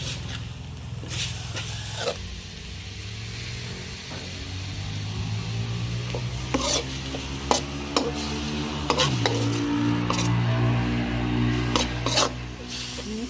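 Ground pork being stir-fried in a pan, with scraping utensil strokes over a low sizzle, the stirring bursts repeating irregularly and close up.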